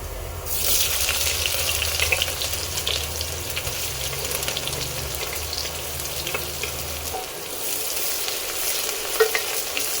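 Chopped onion fries in oil with garlic for a mutton curry, a continuous close hiss and crackle with occasional stirring scrapes and a low rumble underneath, steady throughout and with no speech.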